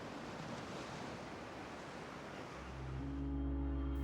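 Foaming waves wash over a computer-animated sea as a steady broadband rush of surf, with a deep low swell rising near the end; no voices.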